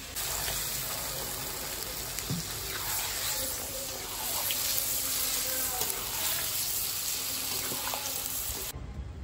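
Water poured into a hot pan of sautéed spice paste for an egg and young jackfruit curry sets off a loud, continuous hiss and sizzle that holds steady until it cuts off abruptly at the end.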